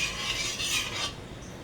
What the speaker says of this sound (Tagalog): haluin ang haluin hanggang matunaw yung asukal